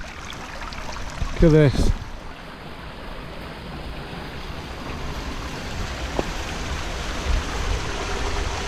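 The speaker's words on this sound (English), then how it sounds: "water does weird things here, coming out of holes in the ground and then disappearing in others" Water gushing from holes in the ground in a dip at High Cup in the North Pennines: a constant rushing wash that runs throughout, with a brief spoken remark early on.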